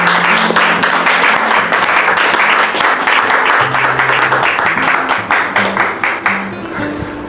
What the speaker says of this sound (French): Recevons le frère David sous vos applaudissements.